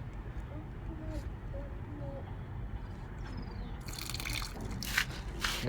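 Water is poured into a container at home, giving soft dripping and trickling that builds into a brief splashing gush near the end. The sound is faint and close, with no talking.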